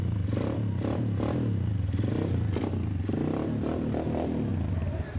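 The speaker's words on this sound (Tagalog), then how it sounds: "naandar na yung makina" Honda XLR 200 motorcycle engine idling with its exhaust newly fitted, a steady close thrum with clattery mechanical pulses that runs continuously, with no talk over it.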